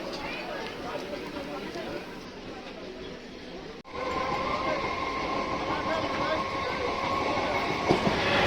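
Inside a moving local passenger train, a continuous rumble of wheels and carriage noise fills the scene. It dips briefly midway, then returns louder and steady, with voices murmuring underneath.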